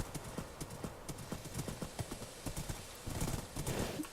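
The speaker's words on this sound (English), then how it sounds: "Oh look, more horses." Several horses clip-clopping on hard ground, a steady rhythm of hoof strikes at moderate distance, with a faint whinny near the end and no speech over the hooves.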